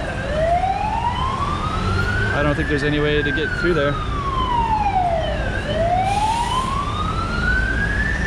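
An ambulance siren wailing loudly, rising and falling in long sweeps over steady traffic noise on an elevated walkway in Taipa, Macau, with a person talking at the same time.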